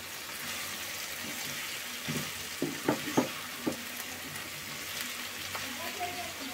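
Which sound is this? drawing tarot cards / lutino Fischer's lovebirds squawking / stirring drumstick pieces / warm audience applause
stirring drumstick pieces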